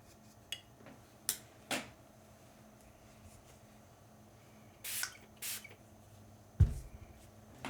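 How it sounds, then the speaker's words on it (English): A spray bottle spritzes water onto a whimsical freestyle painting in a quiet room, with several short, sharp hissing bursts, some single and some in quick pairs, separated by faint handling clicks and taps. "Just another spritz because I could use it."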